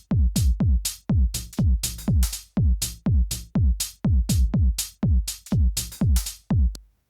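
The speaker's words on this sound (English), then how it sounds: "The closed hat like has like a little call, and then the open hat has the response." A minimal deep house drum loop thumps with punchy low kicks, and crisp closed and open hi-hats answer each other above them. The pattern repeats steadily and tightly for several bars, loud and close, with no voice.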